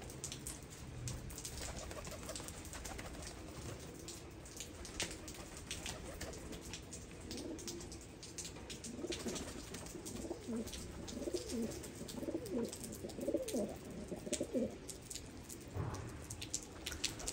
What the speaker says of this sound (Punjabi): ਵਨ ਬਾਏ ਵਨ ਕਬੂਤਰਾਂ ਦਾ ਤੁਹਾਨੂੰ ਸ਼ੋਅ ਕਰਾ ਰਿਹਾ ਮਾਸ਼ਾਅੱਲਾ